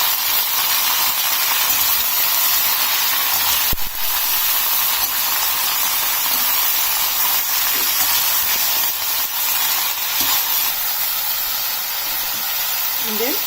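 Mixed vegetables with brinjal stirred in hot oil in a pan make a loud, steady sizzle and hiss throughout, with occasional spatula scrapes over it.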